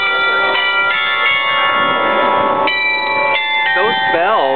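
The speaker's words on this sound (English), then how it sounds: "Those bells mean that's the way of telling everyone on the island of Curacao" Bells ring on the island of Curacao, a layered melodic peal of sustained tones with changing pitches, some wavering notes near the end, fairly loud and close.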